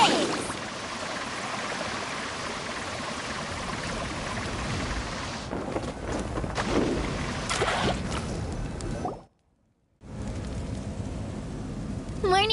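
Rushing, splashing water surges steadily as Mualani carves through waves in Genshin Impact, loud and continuous, with game sound effects layered in, a sharp cut to silence near the end, then the water noise resumes.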